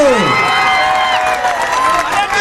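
A crowd cheers and applauds loudly at an AIMIM political rally at a fish market in Dhule, with a voice over the noise in a short, dense burst.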